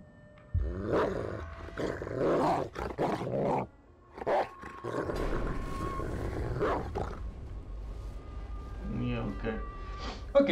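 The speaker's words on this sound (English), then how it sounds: "I'm not liking the sound of this dog." A dog growls and snarls in the Layers of Fear video game, with low rumbling bursts broken by short pauses, close and fairly loud, and someone talks over parts of it.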